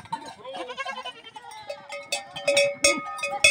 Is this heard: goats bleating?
yes